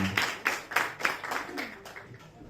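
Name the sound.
applause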